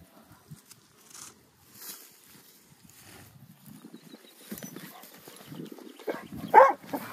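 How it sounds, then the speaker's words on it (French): A dog barks at a herd of cows outdoors in a field, with a few scattered barks that build toward a louder one near the end amid rustling and faint movement. "Oh là là, il aboie."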